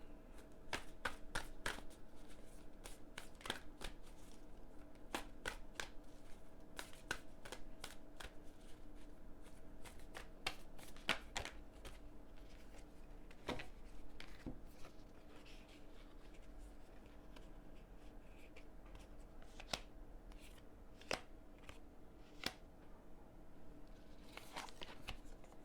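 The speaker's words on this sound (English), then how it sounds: "no matter how I pull these cards, how I shuffle these cards" Tarot cards being shuffled close by, with quick riffling bursts and crisp snaps, thinning into occasional soft taps and slides over a quiet background hum.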